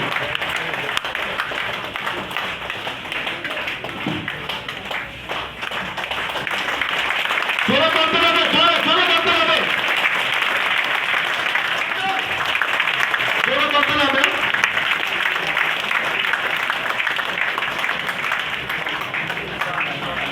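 A concert crowd applauds in a steady, dense wash of clapping that swells midway, while someone speaks loudly over it through a sound system.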